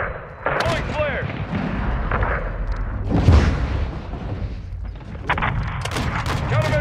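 Countermeasure flares firing from an aircraft in the video game Modern Warfare II, loud booming bursts amid continuous roaring combat noise, with a radio voice speaking over it.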